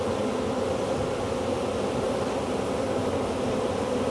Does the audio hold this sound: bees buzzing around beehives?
yes